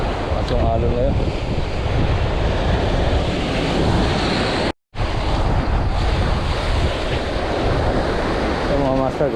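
Ocean waves surge and wash steadily over heavy wind buffeting, with a brief dropout midway; no voices, continuous roar throughout.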